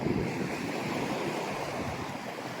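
Steady rush of sea waves breaking on a choppy day at Güvercinlik, Bodrum, Turkey, with wind buffeting the microphone and no voices.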